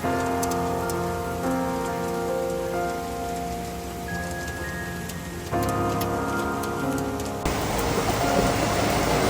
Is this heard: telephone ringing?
no